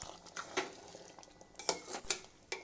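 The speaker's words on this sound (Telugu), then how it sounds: "మధ్య మధ్యలో గిన్నెకి అంటుకోకుండా కలుపుకుంటూ ఉండాలి." Millet upma stirred in a cooking pot to keep it from sticking: soft scraping and several sharp spoon-on-pot clinks at an irregular rhythm, close and fairly quiet.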